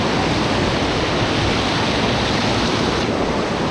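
Waterfall running over moss in a canyon, a steady, dense rush of falling water that fills the whole moment, loud and close with no break and no voices.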